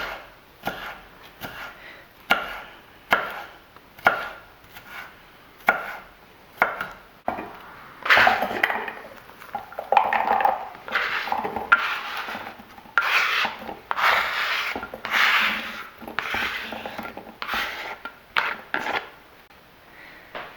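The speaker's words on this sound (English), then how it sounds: "Make slices. And cut them in little blocks." A knife chops food into small blocks on a cutting board, a long run of crisp, regular thunks close up, speeding into denser rasping cuts midway, with no talking.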